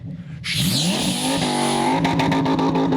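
A person vocally imitates a revving car engine, a loud continuous buzzing tone that sweeps upward in pitch like an accelerating motor, then holds a steady drone with rapid pulsing toward the end.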